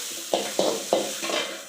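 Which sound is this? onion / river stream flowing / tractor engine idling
onion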